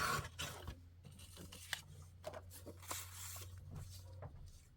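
Scissors cutting and trimming the border of a printed photo, a faint series of small snips and paper scrapes close by, with a steady low hum underneath.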